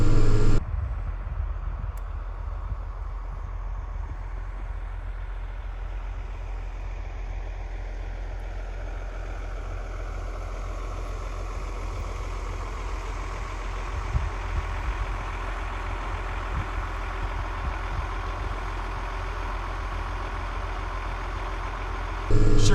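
Sugar beet harvester and truck engines drone steadily in a North Dakota field, a continuous low rumble heard from a distance for over twenty seconds with no talking.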